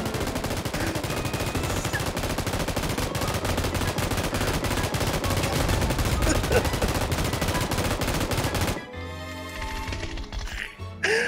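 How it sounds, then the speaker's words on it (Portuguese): Rapid automatic gunfire in the battle royale video game PUBG, dense loud bursts of shots hammering continuously for most of the stretch before breaking into scattered single shots near the end. "Eu juro, eu não aguentava mais escutar tiro, velho."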